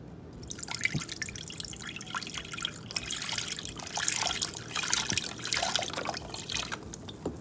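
Water poured into a cooking pot while making curry chicken, a steady close trickle with dripping and splashing that runs continuously for several seconds with no talk.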